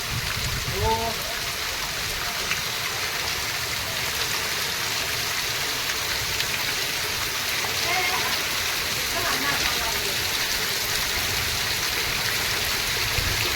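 Heavy first-of-the-season rain pours down in a steady, dense hiss, with water running and splashing nearby throughout, and people's voices talking faintly beneath the downpour.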